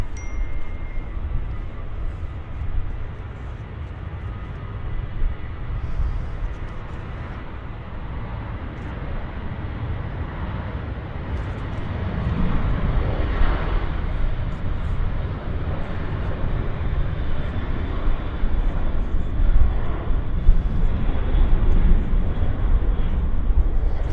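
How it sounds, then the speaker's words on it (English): An American Airlines airliner rolls down the runway for takeoff at Vancouver Airport, heard from a distance as a steady broadband roar that slowly builds in loudness. "American Airlines on the roll."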